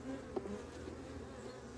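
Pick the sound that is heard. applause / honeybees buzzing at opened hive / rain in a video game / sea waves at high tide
honeybees buzzing at opened hive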